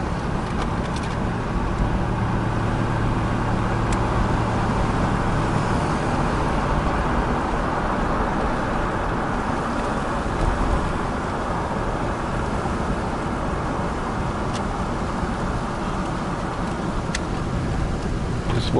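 Steady road rumble from inside a vehicle driving around RV parks in Port Aransas, Texas: a constant low tire and engine drone with faint passing ticks, no voices.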